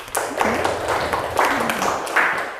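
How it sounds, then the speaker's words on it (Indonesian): A classroom group claps for the second group after its presentation: steady moderate applause with taps and scattered claps throughout, heard up close. "Kita beri aplaus untuk kelompok 2"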